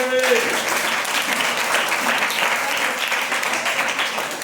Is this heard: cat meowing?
no